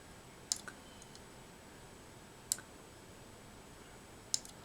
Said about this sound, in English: I'm just clicking on the arrows, kind of moving it around to see which ones I want.